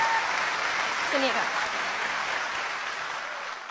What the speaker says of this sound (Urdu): ایک بار زوردار تالیاں